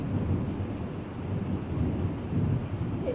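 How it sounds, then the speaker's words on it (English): Thunderstorm with a continuous low rumble of thunder and steady rain, dense and fairly loud throughout with no talking. "The storm is upon us."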